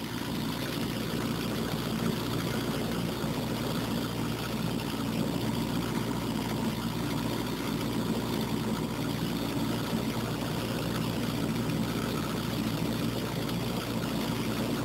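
Car engine running steadily and loud during a Hayden two-speed cooling fan test, a dense continuous roar with a low hum and broad rushing noise that holds without a clear rise in pitch.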